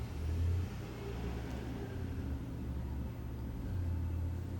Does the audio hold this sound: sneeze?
no